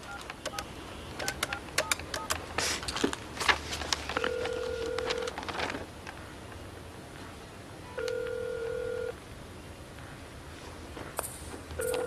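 Dialing on a desk telephone to reach a taxi company: clicks and handling noise, then steady beeping tones in separate bursts with pauses between them, heard alone at moderate level.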